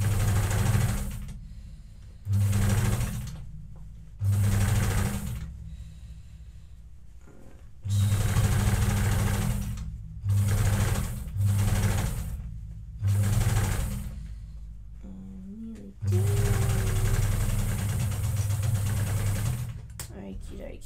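Domestic sewing machine stitching the leg hems of children's overalls, running in repeated bursts of a few seconds each with short pauses between, close and steady.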